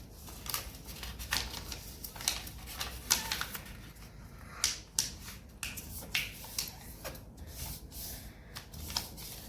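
Paper being folded and creased into an origami gift box, with crisp crinkles, sharp snapping clicks and rustles at close range, irregular and with no talking.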